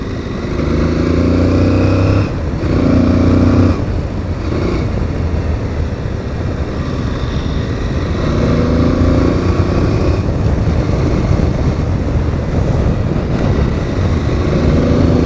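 An Aprilia Tuareg 660 adventure motorcycle being ridden uphill, its engine a steady loud drone mixed with heavy wind buffeting on the microphone, with brief shifts in pitch as the throttle changes.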